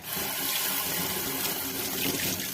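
Tap water runs steadily from a faucet into a sink during washing up, a continuous close rushing flow with no pauses.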